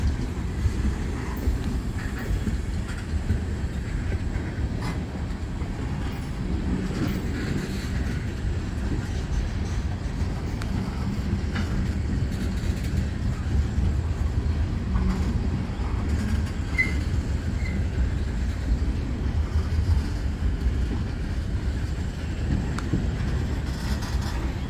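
A steady low rumble of NYS&W freight train cars rolling past nearby in Cortland, with faint rhythmic clanks and metallic rattles continuing throughout.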